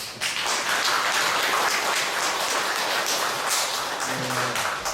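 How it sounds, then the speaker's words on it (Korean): A church congregation claps in sustained, dense applause of many hands, filling the room evenly for several seconds before tapering slightly at the end. "감사의 큰 박수 한번"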